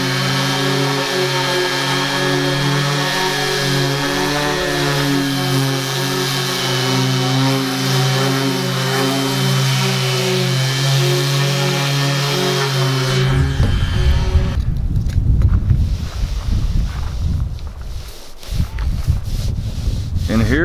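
An orbital sander works marine plywood for a catamaran build, a loud steady whir and rub running unbroken, then shifting into rougher, scratchier grinding near the end.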